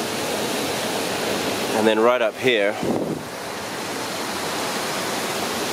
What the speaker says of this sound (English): There's a waterfall right nearby, so it's a bit loud.